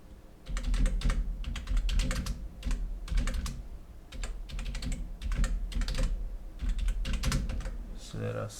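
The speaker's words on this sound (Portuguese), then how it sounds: "Vamos digitar aqui." Close, crisp bursts of typing on a computer keyboard come in rapid clusters of keystrokes separated by short pauses, repeating across the whole stretch.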